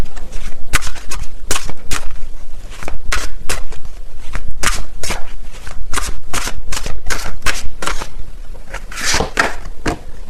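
Tarot cards are shuffled loudly and close by in a long run of crisp riffling bursts and flaps with brief pauses between them, with no talking.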